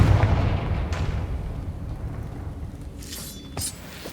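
A Confringo fire spell blast in Hogwarts Legacy: a dense, rumbling explosive wash with a few sharper bursts cracking through near the end.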